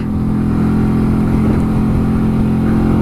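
Honda Shadow 125 motorcycle cruising on the road at steady speed, its engine holding a constant low hum with no change in pitch, close and loud.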